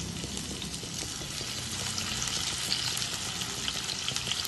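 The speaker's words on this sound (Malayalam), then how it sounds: "എണ്ണ നന്നായിട്ട് ചൂടായി. നമുക്ക് ആ ചിക്കൻ പീസസിന് ഇട്ട് കൊടുക്കാം." Marinated chicken pieces for Thai basil chicken fry in hot oil, a dense, steady sizzle that stays loud and close throughout with no talking.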